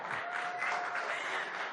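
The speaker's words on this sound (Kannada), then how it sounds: "ಪ್ರೀತಿಯ ತುಂಬು ಹೃದಯದ ಚಪ್ಪಾಳೆ" An audience at the Republic Kannada Sangama 2025 event claps together in a steady, sustained round of applause that fills the hall, fairly even in loudness, with no talking over it.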